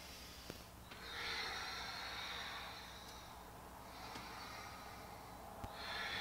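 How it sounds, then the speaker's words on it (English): Slow Ujjayi breaths rasp through a constricted throat during a yoga warm-up, each long airy hiss rising and fading in a steady, quiet rhythm. "So constricting your throat and making kind of an H sound."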